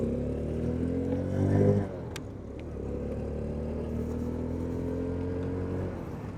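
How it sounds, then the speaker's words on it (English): A Boom Vader 125cc motorcycle, a Honda Grom clone, revs up briefly, drops off abruptly around a gear change, then settles into a steady droning engine note while riding, with no talking. "I need to do some rev matching."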